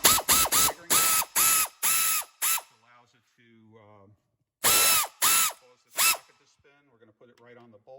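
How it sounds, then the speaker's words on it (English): A pneumatic air ratchet runs in several loud bursts while tightening a bolt during a disc brake reassembly, with short pauses between the bursts and quieter handling noises in the gaps. "Okay, so we have our air tool, air ratchet hooked up."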